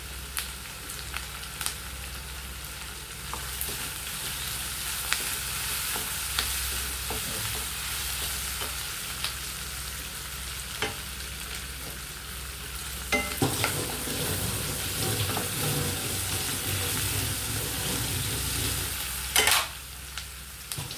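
Green chili and sambar powder sauté in a pan for a tomato gravy, a steady close sizzle with occasional scrapes and taps of a stirring spoon, and a louder burst of clatter and sizzle around the middle and near the end.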